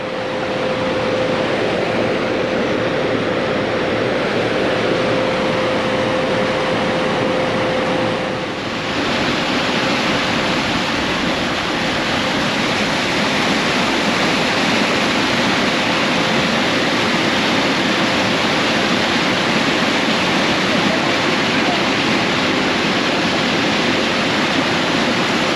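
Water pours steadily out through a breached pond dam, a loud, continuous close rush with no pauses.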